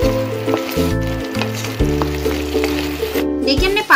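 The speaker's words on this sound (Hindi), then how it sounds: "पालक को हम तब तक भून लेंगे जब तक कि इसमें पालक जो है वो तेल ना छोड़ दे।" Spinach for palak paneer frying in oil as it is stirred: a steady sizzle runs under loud, stepping background music throughout.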